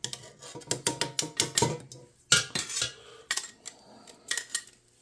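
Boiled, drained potatoes pressed through a potato ricer for Irish colcannon: a run of close metallic clicks and squeaks, then a few squeezes with scraping and knocks, loud and near with no talk.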